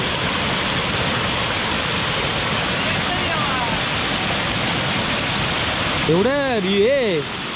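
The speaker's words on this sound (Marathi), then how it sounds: "पाण्याचा फोर्स बघ आहे तो" A river in the Konkan monsoon rushes with force, making a loud, unbroken roar close by. A voice briefly speaks over the torrent near the end.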